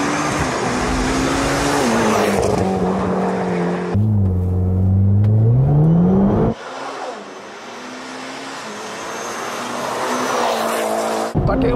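Tuned GR Supra, Evo IX or BRZ engine on a mountain pass time attack, suffering machine trouble: loud engine rising and falling in pitch through gear changes, with tire squeal and a brief cut, heard close and continuous.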